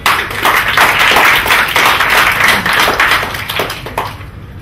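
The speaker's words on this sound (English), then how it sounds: "Can you please clap for him?" Audience at a professional excellence training program claps steadily for several seconds, a dense continuous patter of many hands that tapers off toward the end.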